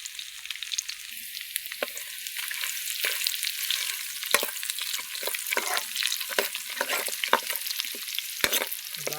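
Garlic frying in a pan, a bright close crackle and hiss broken by frequent sharp spatters and stirring clicks, steady throughout with no talking.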